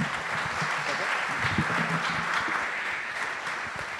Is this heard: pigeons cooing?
no